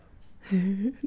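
A single drawn-out cat meow, rising then falling, followed by a short chirp, close by over quiet background.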